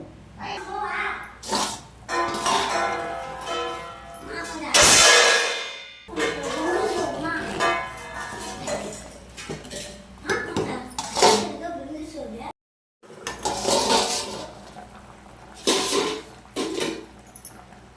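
Anchovy fish curry being stirred in a clay pot, with intermittent scraping and clattering of a ladle against the pot in several bursts, close and moderately loud, while a person talks throughout.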